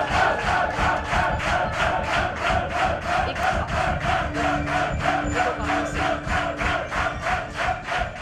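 A loud crowd of fans awaiting a Japanese all-female heavy metal band chants and cheers in a steady pulsing rhythm, the massed voices rising and falling with each beat.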